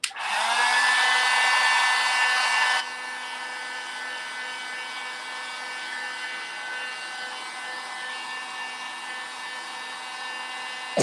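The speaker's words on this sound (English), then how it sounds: "Let me dry this with the blow dryer because I don't want to smear anything." A blow dryer (heat gun) dries paint on a craft door hanger. It whirs steadily with a high whine, loudest for the first few seconds, then drops to a lower, weaker hum until it clicks off at the end, with no talk.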